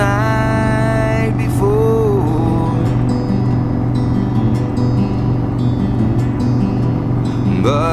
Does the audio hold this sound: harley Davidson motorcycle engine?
yes